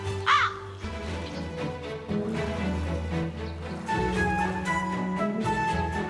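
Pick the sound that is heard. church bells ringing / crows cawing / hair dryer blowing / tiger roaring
crows cawing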